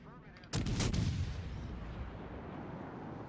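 Warship guns firing in World of Warships Legends: a sudden heavy volley of booming salvos, then a long rumbling decay, loud and alone with no voices.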